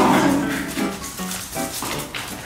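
A small dog whimpers and whines in short high-pitched bursts inside a cramped camper van while travelling with two dogs, close and fairly loud with some low road rumble beneath.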